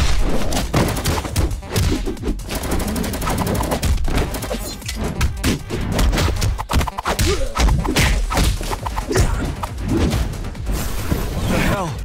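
Rapid gunfire in the shooter game King Cross: Assault, dense bursts of sharp shots and impacts crackling continuously at close range, with shouted voices mixed in.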